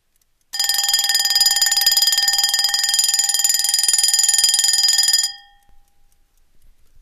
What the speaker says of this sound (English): Gray Locke woke to the sound of an old wind-up Baby Ben ringing on the nightstand beside his bed